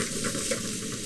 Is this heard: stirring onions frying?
yes